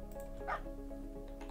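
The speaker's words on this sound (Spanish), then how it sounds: "Es el perro que nos va a hacer carry al dragón." A dog in a video game gives a short bark and yip near the middle, fairly faint over a steady tonal game-music bed.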